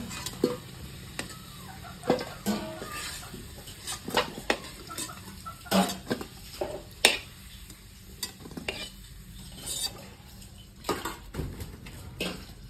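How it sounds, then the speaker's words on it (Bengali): Cauliflower florets fry in a pan on a home stove, with repeated clattering spatula strokes and metallic clinks over a soft, continuous sizzle. "ফুলকপি ভেজে নেবো, ফুলকপি দিয়ে দিই।"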